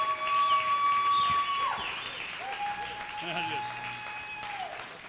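An audience at a comedy headliner show claps and cheers steadily; the applause is broad and sustained while a voice talks faintly over it.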